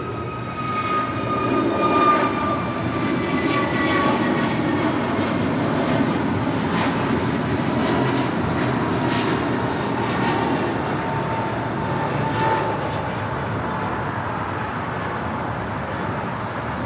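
A United airliner takes off from runway 25 right at LAX, its jet engines producing a loud, steady roar that holds for the whole stretch with faint whining tones riding on top.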